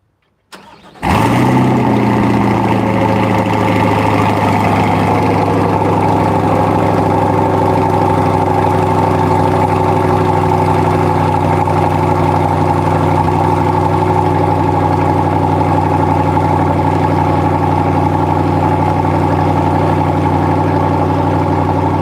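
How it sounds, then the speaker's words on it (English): Chevrolet C8 Corvette Z06 cold start: a quick crank then a loud catch into a high, steady idle that holds strong and slowly settles, with a touch of revving early on, close by and alone. "Just for you, Brian, we're going to get one more cold start and a little bit of a rev out of the C8"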